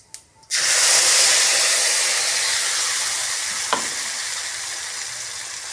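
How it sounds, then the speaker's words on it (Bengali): Spice pastes of melon seed, poppy seed and cashew, with tomato and green chillies, hit a hot pan with a sudden loud hiss that settles into a steady, dense sizzle. One faint clack from the pan interrupts it briefly. No one speaks. "এটাকে আমি ভালো করে কষিয়ে নেব।"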